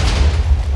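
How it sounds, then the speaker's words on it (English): A TNT minecart in Minecraft goes off in a loud, booming explosion, a heavy low rumble that fills the short moment with no voices over it. "automatically set itself off, and it's going to be a huge explosion"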